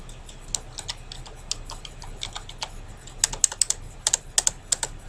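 Keys clatter on a computer keyboard in uneven bursts of sharp, close clicks, sparse at first and then quicker and louder toward the end.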